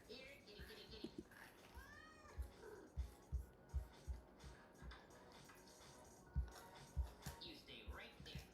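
Soft meows from a cat in a Paw Patrol cartoon, a couple of faint rising cries amid quiet rhythmic thumps and background voices, low in level.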